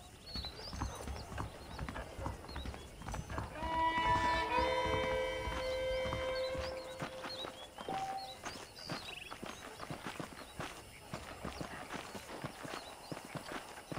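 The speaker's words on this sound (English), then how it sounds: "The horses are saddled up over here." Horses walk with steady clip-clop hoofbeats in the Red Dead Redemption video game, a continuous rhythmic plodding at moderate distance, with a brief tonal musical swell partway through.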